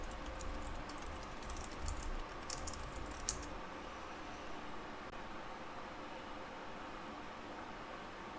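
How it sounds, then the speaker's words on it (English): Password typed on a computer keyboard: a quick run of light clicking keystrokes in the first few seconds, then fading into a steady low background hum. "And I typed it in correctly."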